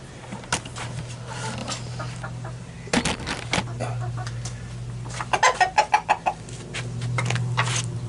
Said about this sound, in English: I'm going to throw this to the chickens.